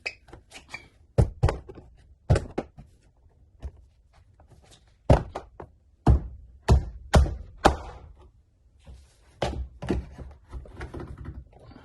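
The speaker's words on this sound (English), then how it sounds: "So you wanna start by popping somewhere along the bottom of the door panel." A pry tool pops the plastic retaining tabs off a Subaru Impreza door panel, giving sharp, isolated snaps and knocks at irregular intervals, close and clear against near silence.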